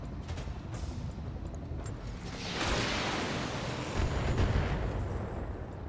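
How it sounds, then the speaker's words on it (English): Missile salvo launched from a battle mech in BattleTech, a sustained roaring whoosh of rockets firing with rumbling blasts building midway, loud and dense with no speech. "None of the missiles hit."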